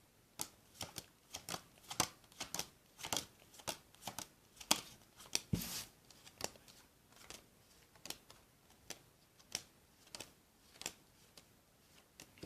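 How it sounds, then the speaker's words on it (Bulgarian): A small deck of 20 playing cards handled close up, giving a steady series of quiet, crisp flicks and snaps about once or twice a second, alone with no talk. "Ето ги 20 карти."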